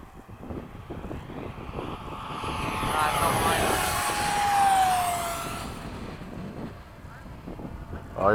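An FMS 70mm F/A-18 RC jet flies in formation with a second 70mm jet at sunset, its whining engine swelling loudly as it passes overhead and then fading, with people talking over it.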